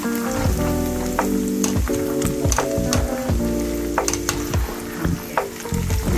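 Curry leaves crackling in hot oil, being fried until crisp for peanut pakodi, make a loud dense sizzle with rapid popping and spitting bursts throughout, close and busy without pause.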